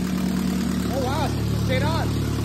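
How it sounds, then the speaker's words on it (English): A Toyota Corolla AE92 SR5 4A-F engine with a Weber Redline carburetor idles with a steady, close rumble under excited voices. "So we got the Weber Redline running."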